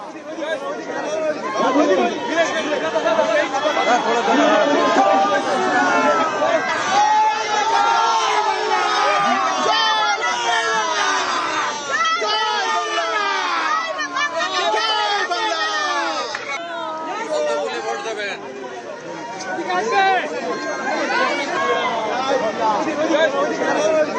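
A crowd at a political campaign event in Bengal shouts slogans, a dense and continuous mass of overlapping voices calling out loudly and unevenly with no pauses.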